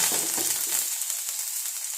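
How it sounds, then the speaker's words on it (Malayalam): Mustard seeds crackle in hot oil, a dense close sizzle that fades in its lower body partway through. "എണ്ണ വെച്ച് കടു വറുത്തുണ്ട്"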